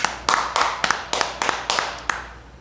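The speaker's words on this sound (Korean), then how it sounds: "우리 같이 박수 한번 치십시다" A small group claps hands in unison at a rhythm dance gathering, about eight crisp, evenly spaced claps close to the listener with a short tail after each.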